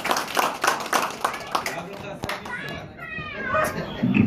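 Diners at the Samarkand restaurant clap in a quick burst of applause with children's voices and chatter mixed in, the clapping fading as talk and background noise take over.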